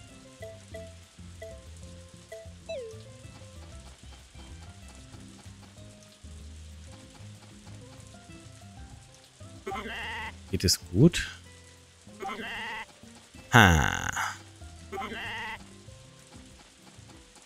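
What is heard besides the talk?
sheep bleating in video game Story of Seasons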